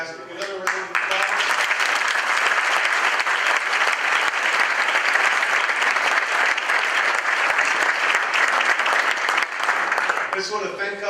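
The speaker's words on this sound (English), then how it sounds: "Another round of applause." A banquet audience applauds in a full, steady burst of clapping lasting about ten seconds, with a voice briefly heard before and after it.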